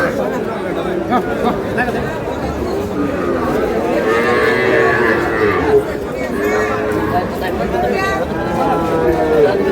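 Bull calves lowing at a busy cattle market, repeated moos rising over a dense crowd of chatter and bargaining voices throughout.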